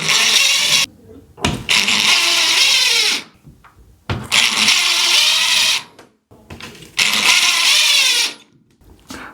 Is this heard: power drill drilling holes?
yes